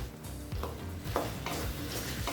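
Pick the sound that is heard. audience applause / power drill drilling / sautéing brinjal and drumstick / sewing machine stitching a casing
sautéing brinjal and drumstick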